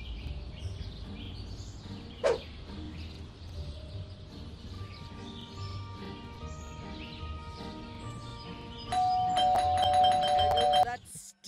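Doorbell chime in Scary Teacher 3D, a melodic tonal ring that grows loud near the end after quieter game sounds and a brief sharp knock.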